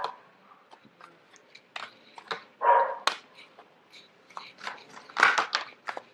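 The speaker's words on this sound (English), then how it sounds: "forgive the dog barking in the background" A dog barks in short, scattered bursts in the background of an indoor room, with sharp yips and woofs separated by quiet gaps.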